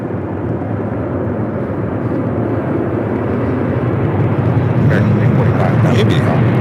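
An Air China Boeing 747-400 arriving at LAX on the south side, a deep continuous rumble of four jet engines that builds gradually, heard from some distance with a few faint high clicks near the end.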